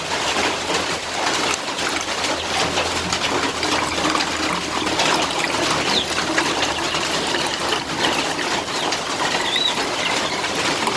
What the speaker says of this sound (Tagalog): Lalagyan na natin to ng mineral water kasi nga pang deworm natin